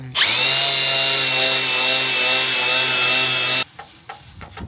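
Power tool spinning up and running at a steady high-pitched whine while polishing the under tray of a Range Rover L405 SDV6, then abruptly stopping, leaving faint handling noises.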